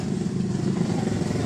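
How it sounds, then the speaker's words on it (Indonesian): A Honda Revo motorcycle that smokes at high revs and is hard to start, its engine held at high throttle with a steady, loud, close buzzing drone and no voices. "kita putar gas putaran tinggi, motor ini berasap"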